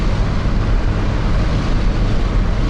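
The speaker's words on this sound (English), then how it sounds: "It is windy." Steady wind buffets a moving truck, a loud, even rumbling roar of air and road noise with no breaks, filling the whole stretch.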